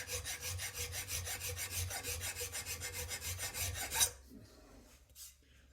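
Rhythmic back-and-forth rasping of a hand file on a metal part of a Brown & Sharpe bench center, about twenty even strokes at close range, ending abruptly followed by a light knock.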